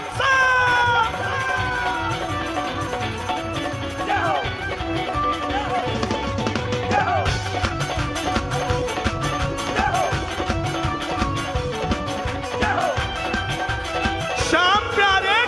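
An audience at a live Hanuman devotional concert cheering, clapping and shouting, a loud continuous crowd roar with whistles and voices over music.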